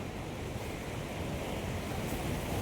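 Waves lapping at Dantiwada dam, a steady dense wash of water noise with wind buffeting the microphone, constant and fairly close throughout.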